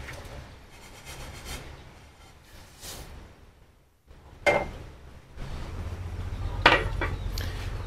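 Toasted golden rice tipped into a pot of water while cooking Vietnamese snakehead fish porridge, giving scattered clinks and clatters of a pot and utensils, then a louder rustling pour with sharp knocks near the end.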